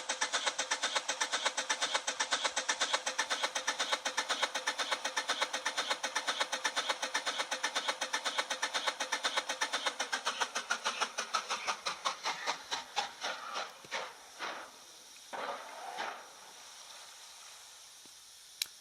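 A train in a Roblox railway game rolls into a station, with steady rapid clacking and engine hum that slows and thins out as the train comes to a stop, ending quiet.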